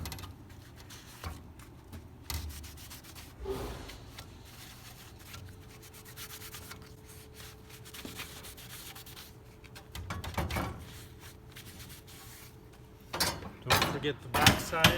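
A rag wipes excess wood glue from a clamped woodworking glue-up, giving soft, intermittent rubbing and light scuffs that are quiet and close, with a few louder knocks near the end.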